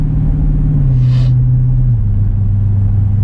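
Jeep SRT with an aFe Power exhaust, a loud, deep steady rumble close by, stepping down in pitch as the engine settles, with a faint brief hiss partway through.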